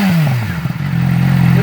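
A 2008 Yamaha R6 sport motorcycle with no muffler and its exhaust valve open gives a loud, raspy engine note that sinks from a rev and settles into a steady, throaty roar close by.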